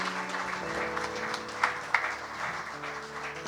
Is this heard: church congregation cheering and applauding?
yes